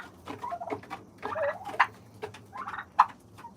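A turkey gobbles among Jersey Giant chickens and a rooster in a coop, with short, choppy gobbling bursts and soft clucking and rustling close by, with no talking.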